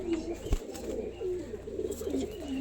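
Lively pigeons, a hen among them, cooing in low rolling phrases close by, with a brief thump partway through and steady soft coos continuing after it.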